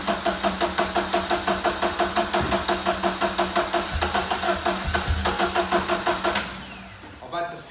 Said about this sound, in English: I'm going to fire it up and let it run up to temperature.